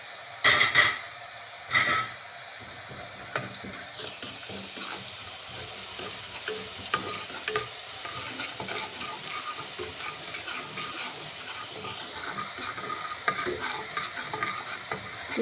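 Fenugreek seeds crackle and sizzle as they temper in hot oil for a sour tamarind-style stew, a steady close frying hiss with a couple of sharper spattering bursts near the start.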